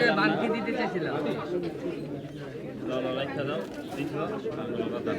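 Pigeons coo steadily at a busy outdoor pigeon market, close and continuous, with people talking and chattering loudly over the birds throughout.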